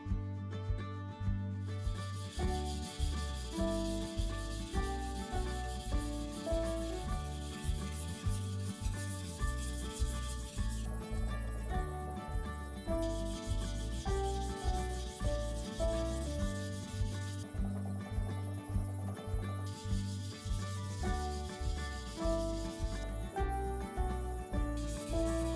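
Steady back-and-forth scraping of a sashimi knife's double-bevel edge across a whetstone during repair grinding, repeated rhythmic strokes heard close up over quiet background music.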